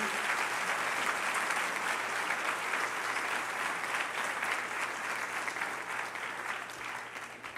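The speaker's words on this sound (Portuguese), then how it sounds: "Então aplauda Jesus por isso, meu irmão." A church congregation applauds during a sermon, a continuous roar of many hands clapping together, even and full throughout before easing slightly near the end.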